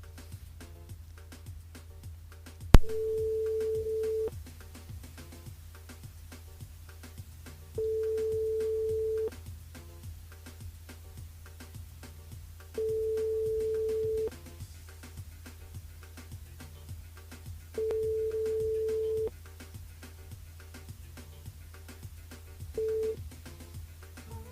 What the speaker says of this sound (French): On appelle Giovanni sur le jeu Night par SMS au 80-90